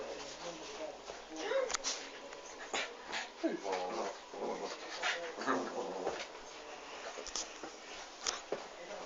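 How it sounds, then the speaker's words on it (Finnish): A Leonberger dog whimpers and whines in short, high, wavering bursts, fairly faint and close, interleaved with people talking nearby. "Eikö ole Leonbergin koira?"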